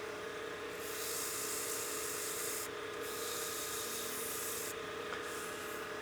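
Steady abrasive sanding rubs against spinning wood, a continuous hissy scratch that briefly lightens twice, with a constant motor hum underneath.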